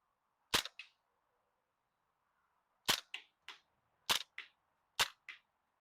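A Maruyama SCW9/APC9K gas blowback airsoft gun fires four sharp single shots, each a crisp pop followed by quick mechanical clacks of the cycling action, close and isolated against near silence.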